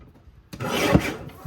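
A paper trimmer blade slides through cardstock in a single close, raspy cutting stroke lasting about a second, heard alone after a brief quiet moment.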